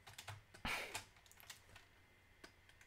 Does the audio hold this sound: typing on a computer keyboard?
yes